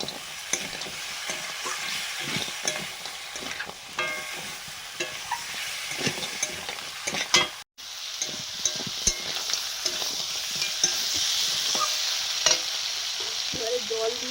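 Fried crabs and fried potatoes stirred in a pan for a spicy crab curry, with a steady close sizzle and repeated scraping, clattering strokes of the spoon over about fourteen seconds, briefly cut off midway.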